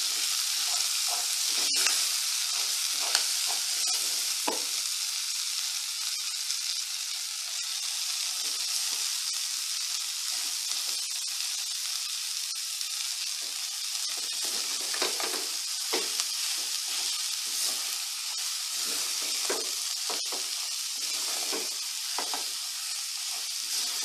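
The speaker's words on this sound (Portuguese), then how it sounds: "A gente vai refogar essa couve, tá, pessoal?" Collard greens sauté in a hot pan, giving a continuous bright sizzle and hiss with occasional stirring scrapes and crackles, close and steady for the whole stretch with no talking.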